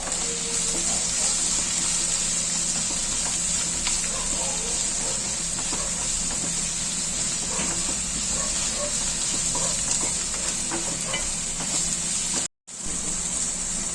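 Onions and tomatoes for kanda poha fry with turmeric and salt in a pan, a steady close sizzle and hiss running throughout with light stirring scrapes, briefly cut off near the end.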